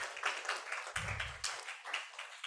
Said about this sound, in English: We can give him applause.